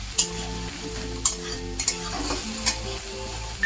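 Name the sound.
onion frying in a pan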